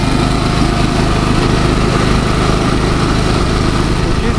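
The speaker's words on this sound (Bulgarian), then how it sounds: "Ето я машинката как работи с агрегатор." A grape crusher with a pump, driven by a small engine, runs as a loud, steady, high-pitched engine drone with a constant mechanical rattle, close and alone.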